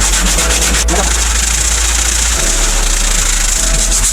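Steady, close scratchy rubbing of sandpaper worked by hand over the wooden interior of a jet boat, continuous for several seconds with a low hum underneath.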